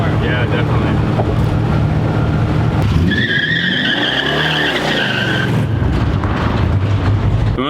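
A 1968 Chevy C10 truck with a 333hp crate motor cruising at about 75, its steady, loud road and engine roar continuous throughout, with a passing whine and swell midway.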